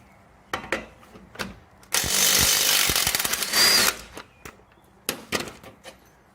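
A power tool removes the pinch bolt on a Subaru Outback lower ball joint with one loud, sustained burst lasting about two seconds. Short clanks and knocks of tools and metal come before and after it.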